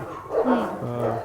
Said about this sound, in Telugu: మీ డాగ్స్ వస్తున్నాయా?